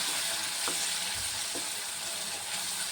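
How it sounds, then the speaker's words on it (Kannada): Brinjal palya fries in a pan with turmeric, chilli powder, garam masala and salt, giving a steady close sizzle broken by a few soft stirring scrapes, with no talking. "ಇದು ಸ್ವಲ್ಪ ಚೆನ್ನಾಗಿ ಫ್ರೈ ಆಗಲಿ."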